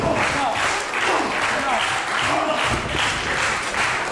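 A wrestling show crowd claps and cheers loudly in a continuous, pulsing roar with a commentator talking over it.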